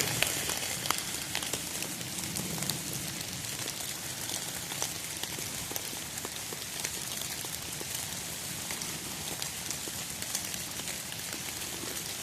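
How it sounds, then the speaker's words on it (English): Steady rain falls through woodland in Ohio, a dense continuous patter of drops on leaves and ground with scattered sharper ticks, fairly close and even in level throughout, with no voices. "It is raining."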